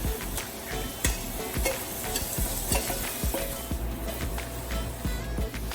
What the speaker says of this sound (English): we are going to add in our chopped up mushroom. And also our frozen veggies and thyme